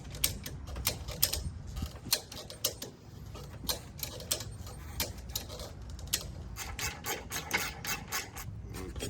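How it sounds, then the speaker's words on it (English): A jack working under the trailing arm of an RS1, rapid ratcheting clicks and mechanical creaks repeating in short bursts, close up and fairly quiet, with no voices. "so we're just gonna jack up the trailing arm a little bit"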